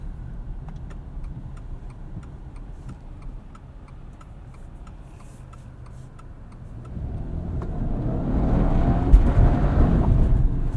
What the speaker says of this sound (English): You can use the paddle shifters behind the steering wheel to slow you down. Cvt isn't too happy about it